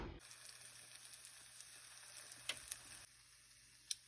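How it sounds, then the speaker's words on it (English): Biscuits frying in hot oil with a faint, even hiss and sizzle, a few sharp pops rising above it and no voices. "I'm gonna fry these biscuits up in oil"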